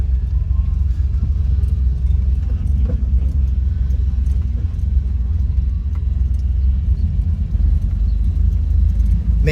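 Mercedes W114 with a turbocharged, EFI-swapped M103 engine pulling away in first gear, a loud, steady low rumble from inside the car with road noise and faint clatter throughout.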